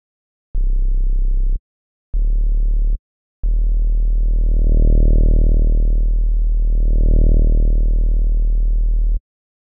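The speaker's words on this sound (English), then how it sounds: "Now we have a sine wave and a sawtooth wave playing together." A synthesizer plays a sine wave and a sawtooth oscillator layered together in a dubstep sound-design setup: two short steady notes, then one long sustained tone with a slow rise and fall in loudness, clean with no other sounds.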